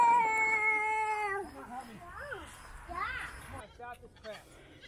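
Young baby goats on a farm give high, wavering bleats, a long sustained cry followed by several shorter quavering calls, close and fairly loud with faint background noise.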